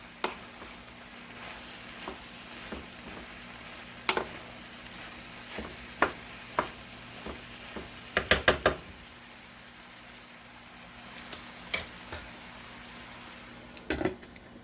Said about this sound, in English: Add the cheese. And stir everything all in.